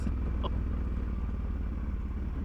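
A motorcycle rides over a rough road, its engine a steady low drone with rattling and clatter throughout, loud and close, with a brief knock near the start.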